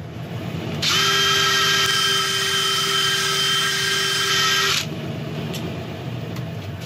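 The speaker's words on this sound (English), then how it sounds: "I am going to use a 2000 grit like scotch pad on the end of my drill just to quickly go over the surface" An electric drill fitted with a fine 2000-grit scotch pad whirs at steady high speed against a turned laburnum wood surface, a sustained whine lasting about four seconds before it winds down, with quieter workshop hum around it.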